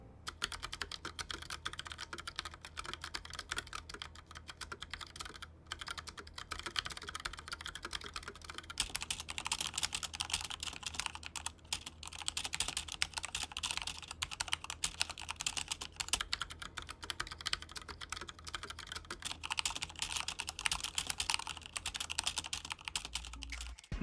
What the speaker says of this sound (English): comparing the Agile red switches on the Gram Spectrum to the Cherry MX red switches